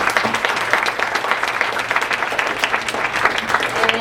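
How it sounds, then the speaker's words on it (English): Audience applause at a university talk, dense steady clapping from a large group that fills the whole stretch without a break. "Another round of applause."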